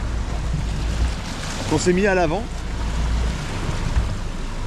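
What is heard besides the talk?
sailboat engine running at sea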